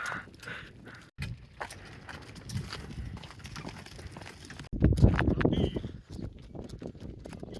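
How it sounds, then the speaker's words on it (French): A horse's hooves clip-clop at a steady walking rhythm on a road while it pulls a cart downhill toward Chaumont, close and fairly loud, with the cart's rumble beneath and a louder burst of movement partway through. "Entre la charrette là qui se fait la malle parce qu'on est en descente et Mimule qui par moment ne veut pas avancer"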